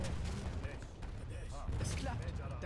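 A gunshot in the video game Age of Empires III sounds amid dense battle noise, with booming low rumble and scattered reports layered together, loud and continuous across the short stretch.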